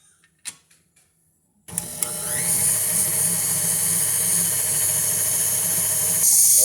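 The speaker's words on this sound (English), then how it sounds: "we're going to mix this back on medium for 2 minutes" An electric stand mixer runs steadily on medium speed, kneading sweet potato with bread flour into an ensaymada dough, starting after a couple of faint clicks and holding a continuous whirring hum to the end.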